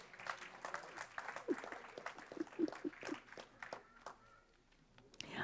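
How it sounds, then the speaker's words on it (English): Audience applause at a school board meeting honoring students, quiet and uneven, with scattered claps and voices talking over it, fading and then rising again near the end. "Let's give her a big round of applause."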